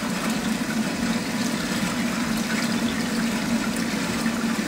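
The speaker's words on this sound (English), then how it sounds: "I got some hot water here. I'm just going to sparge a little bit," Hot water poured over grains to sparge an IPA partial mash for beer brewing, a steady close rush of splashing liquid that runs continuously without a break.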